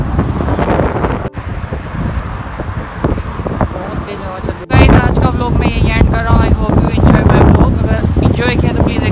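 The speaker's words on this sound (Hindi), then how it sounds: "बहुत तेज हवा चल रही है" Strong gusty wind blows outdoors just before rain, roaring loudly across the microphone as a continuous rush that briefly cuts out, then returns harder with a voice talking over it.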